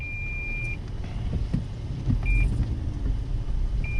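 A Toyota 4Runner Limited drives through deep snow during a nor'easter, with a steady low engine and road rumble inside the cabin and a few short electronic beeps over it.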